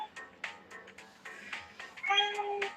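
A tabby cat meows a few times, with the longest, clearest meow near the end, mixed with light background noise and brief clicks.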